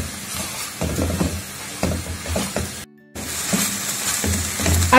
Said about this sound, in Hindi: इसको अच्छी तरह मिक्स करके मैं फुल आंच पे 2 मिनट तक इसी तरह इसको मिक्स करती रहूंगी